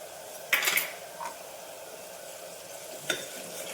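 Ginger garlic paste frying in a pan for mutton curry, with a soft steady sizzle and a couple of close clattering spoon-against-pan stirs.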